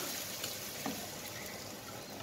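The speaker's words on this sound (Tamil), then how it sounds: "இப்போ தாளிப்பு ரெடி ஆகிடுச்சு கொட்டிடலாம்" Hot oil with curry leaves for tempering sizzles and crackles steadily at a low level, a soft continuous frying hiss with a couple of small pops.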